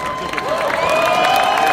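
Bodybuilding-event crowd claps and cheers for Arnold, a steady wash of applause with whoops rising over it, loud and close throughout.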